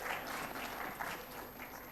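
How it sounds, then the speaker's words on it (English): An audience claps steadily for mentors from a lab at a geospatial awards event, continuous applause filling the room without pause. "Can we please give a great round of applause to them?"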